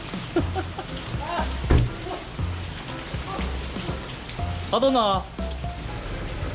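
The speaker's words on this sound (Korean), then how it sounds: "이거 비가 후드려 패는 중입니다." Heavy rain from Typhoon Maysak pours and drums on and around a small light car during a delivery drive. The dense patter stays loud and constant while someone talks over it.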